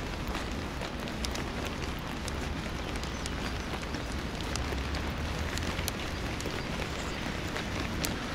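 Steady rain falls in a dense, even hiss, with scattered sharper drops ticking close by throughout.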